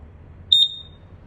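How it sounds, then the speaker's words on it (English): An LP and carbon monoxide detector inside a 2024 Forest River Salem Hemisphere 325RL fifth wheel RV gives one short, high-pitched electronic beep, moderately loud and close, against a quiet background. "If it's carbon monoxide, it gives you this little sound. 4 beeps 2 times in a row"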